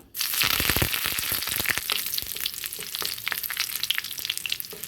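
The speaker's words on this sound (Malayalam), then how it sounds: "വെളിച്ചെണ്ണ നന്നായി ചൂടായിട്ടുണ്ട് ഇതിലേക്ക് അല്പം കടുകിട്ട് കൊടുക്കാം കടുക് പൊട്ടിയിട്ടുണ്ട്" Mustard seeds crackle and pop in hot coconut oil, a dense burst of sharp snaps over a steady sizzle, close and loud.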